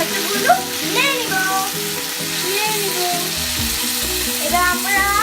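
Chopped tomatoes frying in a pan, giving a steady close sizzle with bursts of crackle and stirring. Background music plays throughout.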